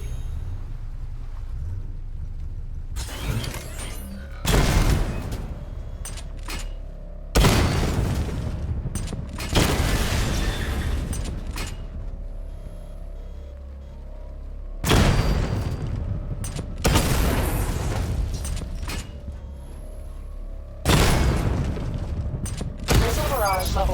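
Targets blown apart in Batman: Arkham Knight, a series of heavy booming explosions every few seconds, each with a sharp attack and a rumbling decay, over a low mechanical drone.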